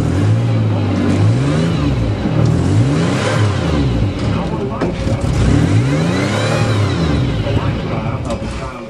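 A van's engine revs after a cold start, rising and falling in several loud, close throttle blips with a rough, uneven idle between them.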